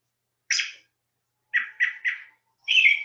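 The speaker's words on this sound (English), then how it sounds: "Listen carefully to the sound of the robin." Recorded song of an American robin, a few clear whistled phrases: one at first, then a quick run of three, then a longer warbled phrase, crisp and isolated with silence between.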